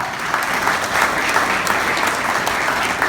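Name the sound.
audience applauding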